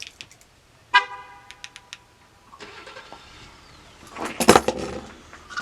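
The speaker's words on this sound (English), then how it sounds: "I have to start the truck back up for Striker because he needs the heater runn" A truck engine cranks and catches after a short electronic tone, then idles with a rough rumble that swells near the end; the sound is close and no one talks over it.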